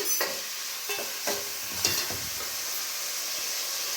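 Onions and okra sizzle and fry steadily in oil in a pan for an egg and okra curry, with a few sharp stirring scrapes and clinks over a constant close hiss.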